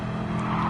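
Race car in Gran Turismo 7 spinning out on the Dragon Trail Jardins circuit, with a steady loud engine roar and skidding tires running continuously throughout, no voices.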